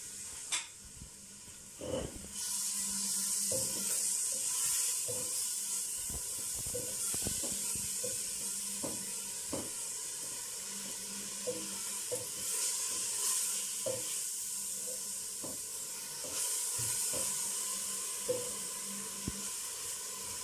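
Onion frying in a spoonful of ghee, a steady broadband sizzle running throughout with scattered clicks and taps from utensils, fairly close, with no talk.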